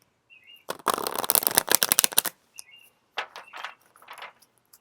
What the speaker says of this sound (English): I'm going to just do like a hard shuffle here.